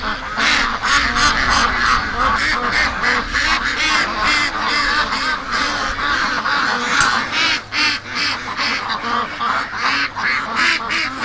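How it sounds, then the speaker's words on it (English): A crowd of ducks quacks and honks loudly and continuously as they rush toward someone bringing food, many overlapping calls close by for over ten seconds. "They're all coming over to see me. Yes, duckies, I have food."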